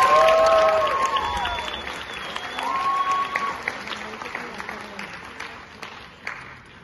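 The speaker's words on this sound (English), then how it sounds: "let's give a round of applause and welcome our performers to the stage" An audience at an international culture show claps to welcome performers onto the stage, loud at first and then thinning out, with voices and cheers scattered over the clapping.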